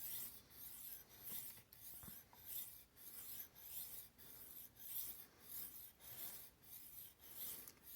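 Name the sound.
knife being polished back and forth on sharpening stone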